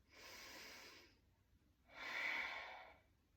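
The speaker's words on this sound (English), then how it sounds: "Take a deep breath." Two slow, deep breaths through the nose during a chair yoga stretch, each a soft airy rush lasting about a second, close and quiet with a short pause between them.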